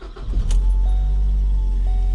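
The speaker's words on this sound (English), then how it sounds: "The engine startup of the Focus." A 2014 Ford Focus SE hatchback engine cranks briefly and catches, then settles into a steady low idle, recorded close with no talking.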